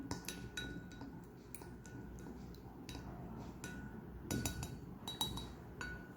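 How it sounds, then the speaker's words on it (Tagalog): Glass clinks and tinkles over a soft background as hand gel ingredients with vitamin E are mixed in a container, sharp taps repeating irregularly throughout. "Mix it again."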